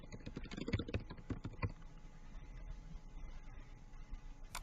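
Computer keyboard typing while a logo is customised in a design program, a run of quick clicky keystrokes up close over the first couple of seconds, then fading into a low steady background hum.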